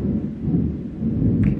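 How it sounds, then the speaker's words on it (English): Thunder rolls as a steady, deep, low rumble throughout, moderately loud and distant, with a faint wash that may be rain. "The thunder."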